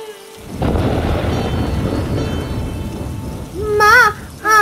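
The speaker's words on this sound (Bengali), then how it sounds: "এখন যারো জোরে জোরে বৃষ্টি শুরু হলো।" A cartoon storm brings heavy rain with a deep rumbling thunder roll, loud and continuous, followed by a warbling tonal sound over the downpour.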